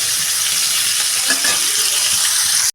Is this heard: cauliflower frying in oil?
yes